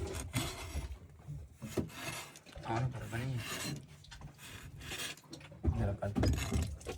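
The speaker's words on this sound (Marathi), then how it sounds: "आता जे मांस आहे ते मांस कापून घेऊ. Boneless piece." A knife cuts boneless catfish meat on a fishing boat, making repeated rasping, scraping strokes at close range, with pauses between them and no talking.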